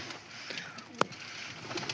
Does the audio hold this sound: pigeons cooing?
yes